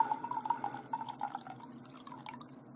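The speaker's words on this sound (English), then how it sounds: "Let's take something in the glass for" Carabao Thai energy drink being poured into a glass, a quick run of close, bright drips and splashes that thin out into a softer trickle, with no voices.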